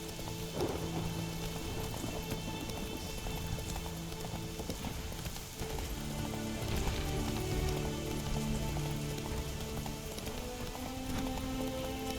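Rain falls as a steady, soft patter in The Witcher 3, running throughout beneath the rhythmic clip-clop of horse hooves and sustained in-game musical tones.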